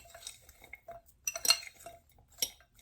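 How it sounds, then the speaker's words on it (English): A spoon stirring a vegan sloppy joe mixture in a pan, giving soft scrapes and a few sharper clinks against the metal, quiet and close with no talking. "Stir that a little bit"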